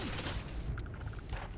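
Rapid gunfire aimed at the player in the space game Idiots In Space, a dense, loud burst of shots that fills the whole short moment with a steady crackling rattle.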